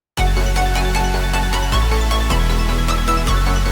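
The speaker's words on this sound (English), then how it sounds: "Later on the build-up, I start to play around with an offbeat bass" Hardstyle remix of the sea shanty Santiano reaching its build-up, a loud dense electronic mix with an offbeat bass line pulsing under sustained synths and steady percussive hits, with no voices.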